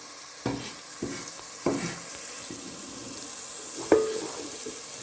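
Steady sizzling hiss of peppers frying in a pan, with occasional clinks and scrapes of stirring over the crackle.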